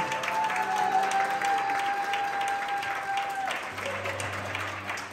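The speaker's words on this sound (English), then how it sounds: "Let's give our newlyweds one more big round of applause" Sustained applause from guests greeting newlyweds at a wedding reception at the Officers Club in Newport, dense continuous clapping across the room with faint music underneath.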